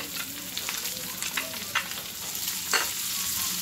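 Bacon fries in a pan as bell pepper is added and stirred, giving a steady, close hiss of sizzling with scattered scraping and clicking from the stirring.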